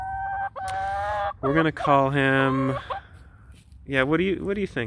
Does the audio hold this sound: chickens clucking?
yes